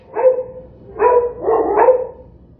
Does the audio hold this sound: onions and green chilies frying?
no